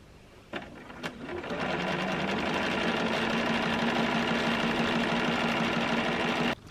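A Bernina sewing machine sews quilt strips in one continuous, steady whirring run of about five seconds, close and clear, starting after a couple of clicks and stopping abruptly.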